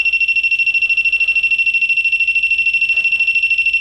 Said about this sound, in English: Something goes near it, something activates it, Dang. the alarm goes off.